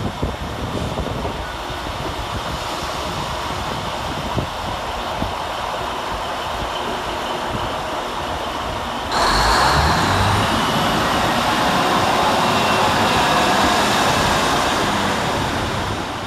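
Northern class 195 diesel multiple unit 195103 pulling into Chester station to terminate, a low rumble that grows louder and fuller partway through as the train draws near, with no voices.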